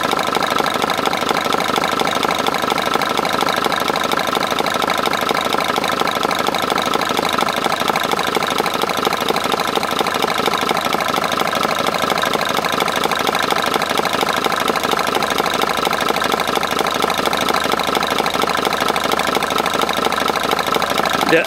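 A Mercedes diesel engine idles steadily and loudly, a continuous rumbling drone with a rapid knocking pulse, unchanging throughout.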